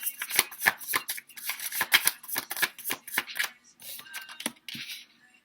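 Tarot cards being shuffled by hand, a close run of crisp riffling slaps and flutters in uneven bursts, fairly quiet and with no talking.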